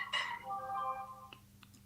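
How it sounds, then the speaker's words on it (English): A phone rings with a short burst of bright electronic ringtone tones followed by a few fainter chirps, fairly quiet against a low room hum, with no voices. "Let me silence my phone for a minute."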